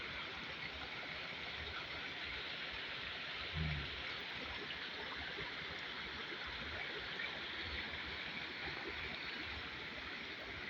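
A countryside stream in a rural farm area rushes steadily, a continuous broadband wash of flowing water heard close up, with no talking over it.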